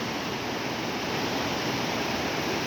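A swollen river in flood after heavy rain rushes past a village with a steady, dense roar that fills the air, continuous and loud with no pauses and no voices.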